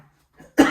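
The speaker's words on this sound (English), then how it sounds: "I'm gonna cough because of this pepper." One sharp cough close by, brought on by inhaling pepper while seasoning chicken drumsticks at a grill, preceded by a faint breath.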